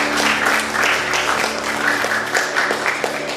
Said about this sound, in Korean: 우리 예배를 받으신 하나님께 박수 영광 돌리겠습니다